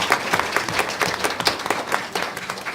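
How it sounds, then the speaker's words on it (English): A smaller audience claps for students' families at a school board meeting, uneven, fairly close handclaps at moderate loudness that carry on for a few seconds. "give these folks a big round of applause"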